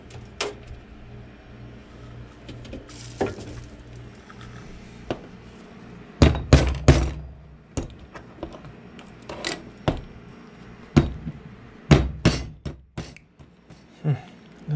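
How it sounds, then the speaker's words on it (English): A series of sharp metallic hammer strikes on an Allen key, some single and some in quick bursts, separated by pauses, with light handling noises between the blows. "It's hammer time."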